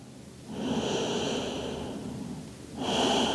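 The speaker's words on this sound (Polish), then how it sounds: "Mocny wdech i wydech do brzucha, relaksujący ciało." Two slow, audible yoga breaths drawn deep into the belly and pushed out, close to the ear, the second starting after a short quiet gap.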